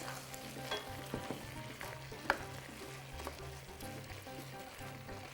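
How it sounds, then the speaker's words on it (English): Paprika is stirred in a hot frying pan, giving a steady close sizzle with scraping stir sounds and one sharper clink, and nobody speaks. "I kind of want to stir it first."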